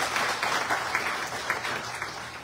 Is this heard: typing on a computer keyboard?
no